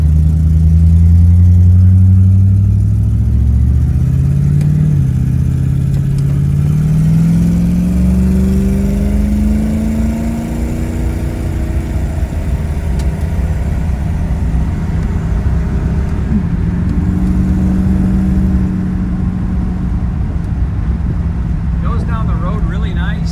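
A 1940 Chevrolet Sedan Delivery with a small block 350 cruises on a country road in Iowa, its loud engine drone rising and falling with gear changes and speed. Someone talks over it most of the time.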